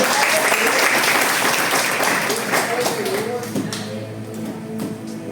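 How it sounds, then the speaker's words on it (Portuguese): A church congregation applauds in a dense, loud burst of many hands that fills the space, then gradually thins and softens toward the end. "E vós aplaudi ao Senhor pela sua palavra em nome de Jesus."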